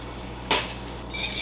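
Two eggs cracked into a bowl for fruit tart batter: a single sharp knock of shell against the rim, then a soft rustling trickle as the contents drop in.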